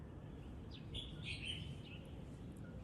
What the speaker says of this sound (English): And the birds are marvelous.